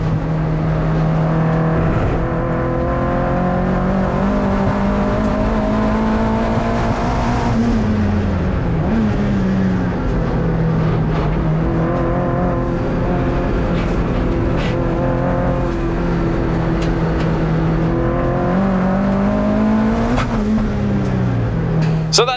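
Onboard engine noise from a racing car lapping a track with a homemade plywood-and-aluminium front splitter: a loud, continuous engine drone that rises and falls in pitch through gear changes and corners, with no talking.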